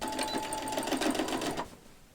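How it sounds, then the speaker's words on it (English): A sewing machine stitches fabric binding together during a clothing upcycle, its needle running in a quick, even mechanical chatter for about a second and a half before stopping, fairly close and quiet. "I'm just gonna sew the binding together"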